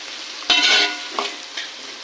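Onions and tomatoes fry in a pan, a soft sizzle marked by a sharp stirring scrape near the start and two lighter stirs after, close up with no talk.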